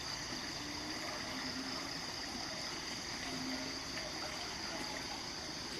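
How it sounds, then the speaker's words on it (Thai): Mountain runoff floodwater after heavy rain flows and swirls steadily in a stream, a continuous rushing wash at a moderate distance, no talk. "ทำให้น้ำไหลย้อน ไหลวนตรงนี้"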